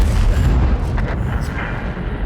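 SU-100 tank destroyer gun firing in World of Tanks: a heavy, booming blast with a deep rumbling low end fills the whole moment, loud and close, fading into a rolling echo with no talk.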